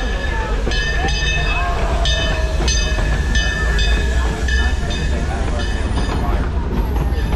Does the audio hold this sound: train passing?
yes